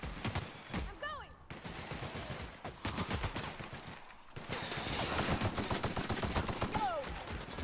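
Rapid gunfire from the video game The Outer Worlds, dense bursts of close, loud shots in quick succession, continuing almost without pause, with brief voice sounds mixed in.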